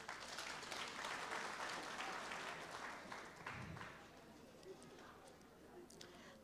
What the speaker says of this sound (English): You can clap hands for yourselves